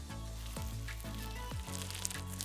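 Crunchy slime packed with glitter and navy blue confetti being kneaded by hand gives quiet, crackly squelches that repeat in a steady rhythm about every half second, close up and with no talk.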